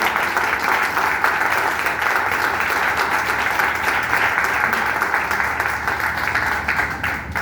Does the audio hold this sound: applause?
yes